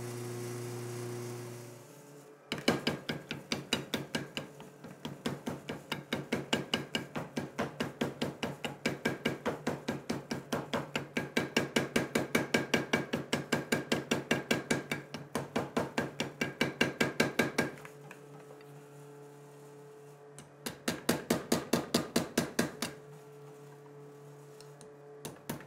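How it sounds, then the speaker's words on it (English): Steel is hammered during forge welding of a traditional Japanese knife. A long run of rapid, steady metallic strikes sounds close and loud, with a brief lull before a shorter burst of blows. "the most important and most critical process in the whole knife making, and that's called forge welding"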